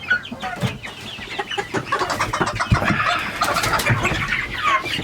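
A busy flock of chickens clucks and chatters close by in a coop, with occasional wing flaps and scuffling throughout.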